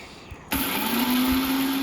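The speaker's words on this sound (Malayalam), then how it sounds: "അത് മിക്സിയിൽ നന്നായിട്ട് പൊടിച്ചെടുക്കണം" After a quiet moment, a kitchen mixer grinder grinding roasted spices switches on abruptly and whirs loudly and steadily at close range.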